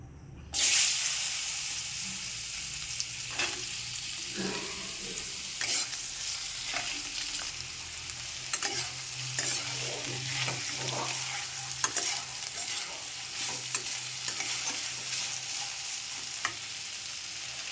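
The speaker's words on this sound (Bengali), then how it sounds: "চলো তাহলে আলুটা ভেজে নিই" Potatoes fry in hot oil in a wok with a steady, close crackling sizzle, while a utensil scrapes and clinks at irregular intervals as they are stirred; no voices.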